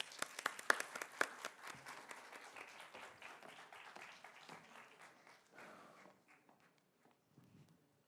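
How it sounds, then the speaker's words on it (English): Audience applause at a TEDx event welcoming a speaker: crisp clapping starts strong and close, then thins out gradually into scattered claps and fades to near silence. "Let us welcome R.V. Anil Bosley with a hearty round of applause."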